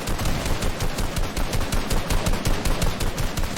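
Rapid bursts of automatic gunfire from a video game squad battle crackle continuously, dense overlapping shots firing in quick repeated volleys at close range.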